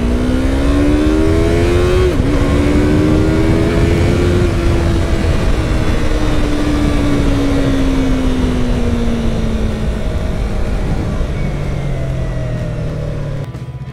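A Yamaha YZF-R3 sport motorcycle accelerates hard, its engine note climbing through gears in loud, rising whines before easing into a falling drone as it runs on, heard close with no voices.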